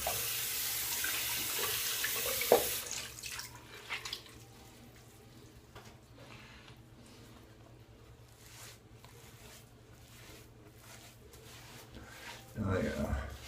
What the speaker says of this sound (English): I'm going to rinse off this alum, so let me go ahead and get my washcloth here